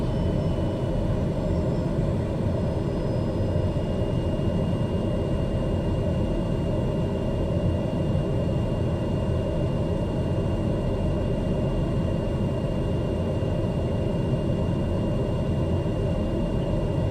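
Airliner engines in Microsoft Flight Simulator 2020 on landing approach over trees, a steady loud rumbling drone that holds evenly throughout with no speech.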